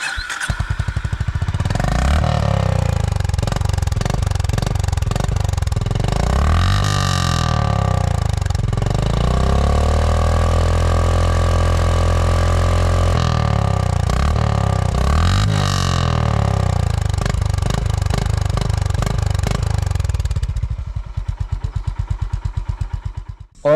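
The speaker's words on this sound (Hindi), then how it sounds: "तो अब इस बाइक का एग्जॉस्ट नोट आपको सुनाता हूँ, देखते हैं कैसा एग्जॉस्ट नोट आ रहा है।" A Honda H'ness CB350 motorcycle runs its exhaust note up close, idling and then revved in two long rising and falling sweeps before dropping back to a thumping idle and cutting off.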